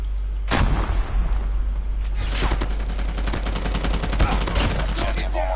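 Rapid bursts of automatic gunfire from the Call of Duty Mobile video game: a single shot, then a dense, fast-repeating volley of sharp cracks that runs on for several seconds, loud and close, with no talking.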